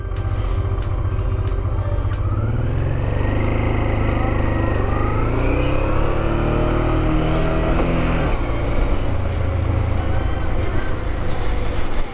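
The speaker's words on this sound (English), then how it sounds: "Cars going everywhere." Heavy road traffic rumbles steadily past a motorcycle rider, with cars and larger vehicles whooshing by close at hand and engine tones rising and falling under constant wind roar.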